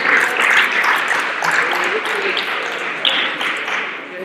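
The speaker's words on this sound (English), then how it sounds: "Big round of applause." Attendees at a season-finale awards gathering for a speed rally of light aircraft and helicopters give a round of applause, loose scattered clapping with some whoops and murmured voices, gradually thinning out.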